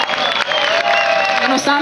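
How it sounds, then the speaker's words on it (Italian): A crowd at an outdoor metal and folk music festival concert applauds and cheers in a loud, sustained roar with whoops and whistles, while a voice talks over it. "fatevi un bel applauso!"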